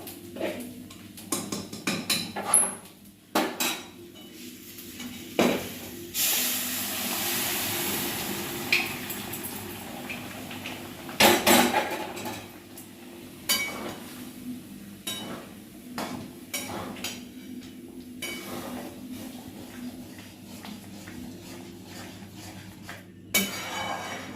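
Pots and metal utensils clatter while ghugni is cooked in a home kitchen, with scattered clinks, knocks and scrapes in irregular bursts over a steady background hum, fairly close.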